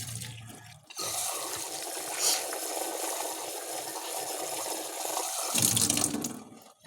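Tap water runs steadily into a sink while dishes are washed, a continuous splashing stream that starts after a brief pause and cuts off near the end, close and fairly quiet.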